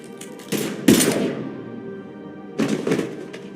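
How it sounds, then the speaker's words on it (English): Gunfire in the Mass Effect 3 video game, a few heavy thudding shots and bursts, a sharp loud blast near the start, then a quieter stretch before another short volley near the end. "Now open fire!"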